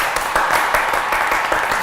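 Applause from a crowd greeting a new trot singer, steady dense clapping throughout at close range, with no voices over it.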